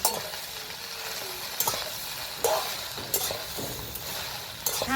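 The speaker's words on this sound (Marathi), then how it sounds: "आता तेल वतून भाजूया भेंडीला। तेल वतलेलं आहे, भाजून घेऊया छान" Okra roasts in hot oil with a quiet, even sizzle, marked every second or so by sharper scraping strokes of a spatula turning the pieces; no voices.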